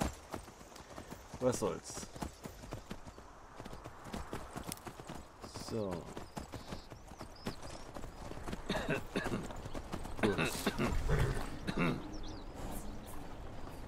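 Horse hooves clip-clopping in the video game Skyrim, an irregular run of hoof falls mixed with game sounds, while someone speaks now and then over them.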